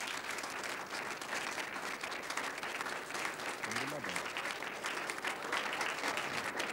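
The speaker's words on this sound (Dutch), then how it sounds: "Ik verzoek u haar nu te verwelkomen met een extra hartelijk en dit keer gemeend applaus." Studio audience applauding to welcome a singer onto a 1977 Dutch television cabaret stage, dense steady clapping that fills the whole stretch at an even level.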